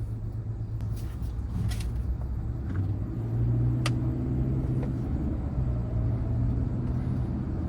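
A 2023 Hyundai Santa Cruz pickup with a dual-clutch transmission pulls away from a standstill, giving a steady low engine rumble and road drone heard from inside the cabin, rising slightly as it accelerates.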